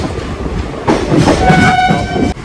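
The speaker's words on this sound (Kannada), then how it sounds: "ಸೊ ಇದು ಸುಮಾರು ದೊಡ್ಡದಿದೆ ರೈಲ್ವೆ ಸ್ಟೇಷನ್" A train rumbles and clatters loudly at close range at a large railway station on the Honnavar to Madgaon route in the rain, with a sustained horn-like tone rising partway through, then cutting off abruptly.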